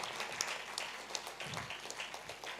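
A gathering applauds during a vote of thanks after a katha, with scattered, fairly light clapping rising and dipping over a couple of seconds.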